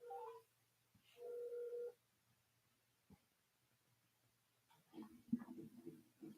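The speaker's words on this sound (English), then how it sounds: "So, Locke, I'm about to give you a call real fast, nephew." A phone number is punched in on a telephone keypad: two short tone bursts, then a faint click and a rougher burst of handset noise near the end, quiet and close.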